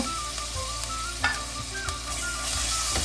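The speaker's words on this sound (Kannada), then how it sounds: "ಸ್ವಲ್ಪ ಶುಂಠಿ ಬೆಳ್ಳುಳ್ಳಿ ಮಸಾಲೆವೆಲ್ಲ ಹಸಿ ವಾಸನೆ ಹೋಗೋವರೆಗೂ ಇದನ್ನು ಸ್ಟವ್ ಮೇಲೆ ಇಟ್ಕೊಂಡು ಫ್ರೈ ಮಾಡ್ಕೊಳ್ಳೋಣ" Ginger-garlic paste sizzling with mushrooms in a hot pan on the stove for mushroom pulao, a continuous close crackle with a handful of spoon scrapes and taps as it is stirred, no speech.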